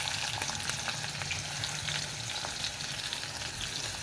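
Chopped onion fries in hot oil in a pan of tempered spices and dried red chilli for a mixed dal, with a steady, dense sizzle and crackle throughout and no voices.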